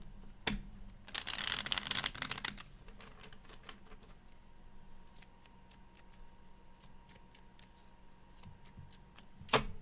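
Tarot cards shuffled by hand during a reading, a close, dense riffling burst early on, then quiet scattered taps and card slaps before a final brisk flutter.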